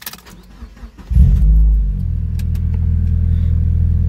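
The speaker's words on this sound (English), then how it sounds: "hopefully the car turns on" A Mazda Miata engine cranks and catches, roaring up loudly before settling into a steady low idle rumble close by.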